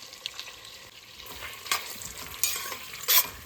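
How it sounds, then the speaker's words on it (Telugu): Sliced onions frying in butter in a pan for chicken dum biryani, giving a soft steady sizzle with occasional louder stirring scrapes, close and quiet with no voices. "ఈ ఆనియన్స్ మనం ఫ్రై చేసుకోవాలి"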